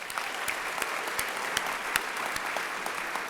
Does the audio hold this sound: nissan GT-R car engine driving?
no